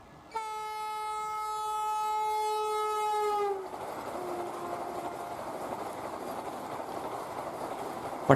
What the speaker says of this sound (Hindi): हावड़ा से न्यू जलपाईगुड़ी, वेस्ट बंगाल की वंदे भारत